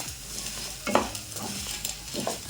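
Spices for a moringa leaf powder are dry-roasted in a pan, giving a close, continuous scraping stir with a few sharper clinks and a faint sizzle, with no one speaking.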